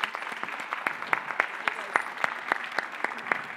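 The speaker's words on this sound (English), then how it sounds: "a big applause for everyone here" A small audience applauds at the end of a women-in-technology lecture event, sparse, distinct claps with clear individual hand strikes, close and moderately loud.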